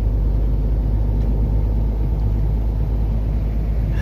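An Audi car moves along a road in a hurry, giving a loud, steady low engine and road rumble that holds constant throughout with no clear approach or fade.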